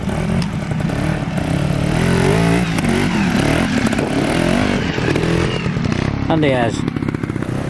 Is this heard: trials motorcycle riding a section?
yes